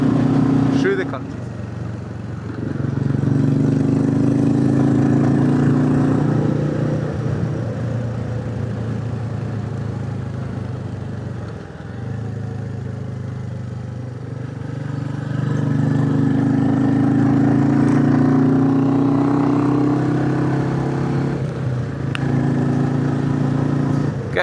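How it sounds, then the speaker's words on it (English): Several Royal Enfield 350 motorcycles ride through the Northumberland countryside, their engines a loud, steady thumping drone that swells and eases as the throttle rises and falls, with wind rush throughout. "I'm just letting you enjoy the noise of the Enfields pumping away through the country"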